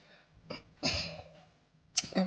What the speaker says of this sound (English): I'm having cough, please pardon me